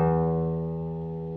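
A single low note on the sixth string of a classical guitar, plucked apoyando with the thumb, rings clear and sustained, fading gently over its short length.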